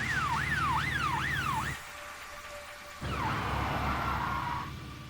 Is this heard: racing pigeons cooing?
no